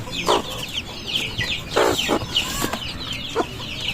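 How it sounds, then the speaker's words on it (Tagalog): Hens clucking near their chicks in a backyard flock, with repeated close clucks and soft calls, and many high peeping chick chirps running through. "Ang gaganda ng sisiw ng aking mga manok"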